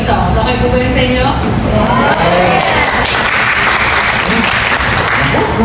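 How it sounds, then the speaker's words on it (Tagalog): Audience applause at an afternoon program of OPM song performances, a dense, steady wash of clapping at close range, with some voices and cheering mixed in. "Pumapalakpak sila."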